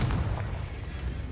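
Confringo fire-blast spell cast in Hogwarts Legacy, a short booming burst of rumbling explosive energy up close, with nothing else around it.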